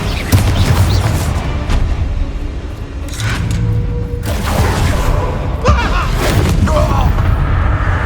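Bombardo spell explosions in the Hogwarts Legacy game, a loud, continuous barrage of booming blasts and crashing impacts during a mine battle, with several sharp detonations standing out over the din.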